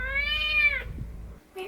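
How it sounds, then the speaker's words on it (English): A cat meows from inside bins outdoors, one long clear meow followed by the start of a second. "I can hear some meowing coming from these bins"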